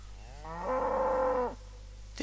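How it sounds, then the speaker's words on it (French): A cow in the video game Rising World gives one long, loud moo lasting about a second, rising and holding steady before cutting off, followed by a brief quieter noise near the end. "Tais-toi la vache!"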